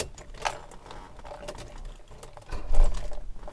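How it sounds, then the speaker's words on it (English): Old Mercedes 300D diesel engine cranked by its starter, a few short bursts of rapid mechanical clatter that build into a heavier, louder churning near the end. "So I'll just click the starter a couple times"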